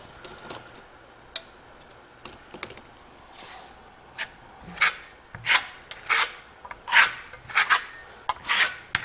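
A steel trowel blade scrapes and smooths Venetian Toscano plaster across a wall, giving faint rasping strokes early on that grow into louder, repeated swipes in an irregular rhythm toward the end, with no talking.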